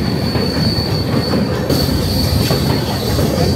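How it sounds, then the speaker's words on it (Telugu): A Rameswaram–Chennai express train rolling onto the Pamban sea bridge: loud, continuous rumbling wheels and carriages with a sustained high metallic squeal and light rhythmic clatter, close by, with no talk. "ఇదిగోండి సీ బ్రిడ్జ్ లోపలికి అయితే ఎంటర్ అయిపోతుంది మన ట్రైన్."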